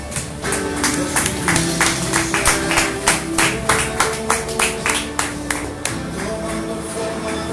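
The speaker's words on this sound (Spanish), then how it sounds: "Dele fuerte las palmas al Rey" Church congregation clapping steadily in rhythm for the King during a Spanish-language worship service, with regular loud claps over a musical backing.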